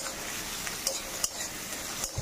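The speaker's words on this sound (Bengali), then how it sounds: "আর এদিকে ডালটা ফোড়ন দেবো, আর টমেটো দিচ্ছি" Spices crackling in hot oil while tempering dal with tomato added, a close steady sizzle broken by sharp clinks of a spoon stirring against the pan, no voices.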